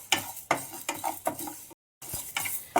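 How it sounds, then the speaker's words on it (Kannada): Urad dal being dry-roasted in a pan for puliyogare powder, stirred in repeated strokes roughly every half second with scraping and light rattling of the lentils, loud and close, with a short silent break. "ಕಾಲು ಕಪ್ಪಷ್ಟು ಉದ್ದಿನಬೇಳೆ ಇದು ಗಮ್ಮಂತ ಆಗೋವರೆಗೂ"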